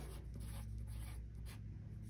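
Pencil or pen scratching on the back of a sheet of paper as a child writes a name, a soft continuous rubbing with short strokes, close and quiet over a low hum.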